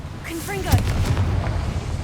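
A Confringo fire blast spell in Hogwarts Legacy, a whooshing launch followed by a deep, rumbling boom and crackling burst, loud and near, mixed with a spoken spell cast and a rising magical tone.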